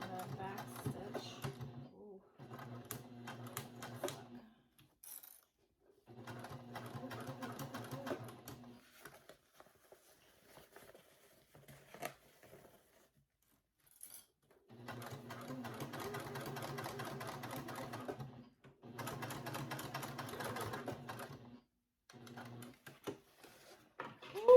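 A sewing machine runs in several bursts while back stitching a fabric book cover, its steady rapid stitching hum stopping and restarting, with brief quiet gaps between runs.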